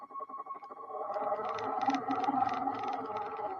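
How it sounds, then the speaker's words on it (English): Tracks of a remote-control car rolling through a house give off a steady, faint mechanical whirring drone with a rapid clicking rattle layered on top, continuing throughout. "That noise is the bloody track"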